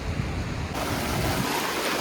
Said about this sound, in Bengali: দারুণ সমুদ্রে একটা স্রোত আসছে হালকা করে।